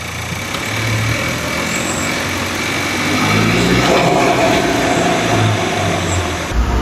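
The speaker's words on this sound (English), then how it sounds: "how does this car sound with the intake?" A car engine fitted with an aftermarket intake runs and revs, a loud steady drone with a low rumble that swells in the middle, heard close from inside the cabin.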